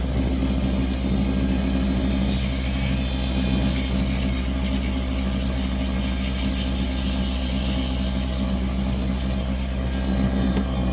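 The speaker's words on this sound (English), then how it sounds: "Give that a little sanding." Continuous rasping and rubbing of abrasive on wood, steady and close, running without pause over a low background rumble.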